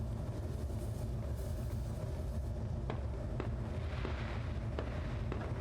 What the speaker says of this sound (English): Oh, and the fireworks.